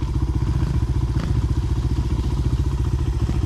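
A small dirt bike engine climbs a hill with a steady, loud, rapidly pulsing mid-pitched putter throughout, close to the listener, and one brief thump partway through.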